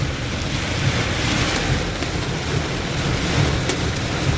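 Storm wind and heavy rain batter a vehicle being driven through Hemayetpur, Savar, a steady loud roar of rushing air and pelting water that holds constant throughout, with no voices.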